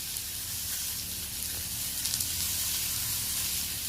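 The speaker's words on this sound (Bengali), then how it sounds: "আলুটা বেশ নাড়াচাড়া করে লালচে করে ভেজে নিতে হবে" Potatoes fry in hot oil in a pan, stirred until reddish-brown. A dense, steady sizzle and hiss fills the whole stretch, close and loud, with faint scraping clicks underneath.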